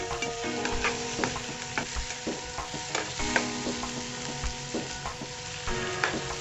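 Chicken pieces fry in a hot pan for Chinese-style rice while a utensil stirs them, a loud continuous sizzle with repeated scraping and knocking strokes, close up and without speech.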